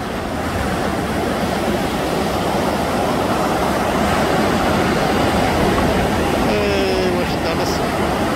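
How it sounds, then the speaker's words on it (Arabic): Sea waves foam and churn below the cliffs at Al Hoceima, a continuous loud broadband rush like surf, with a voice speaking briefly near the end. "وراء كيسميتو راه البحر اللي كيدير داك الفوار كما كتشوفو تحت"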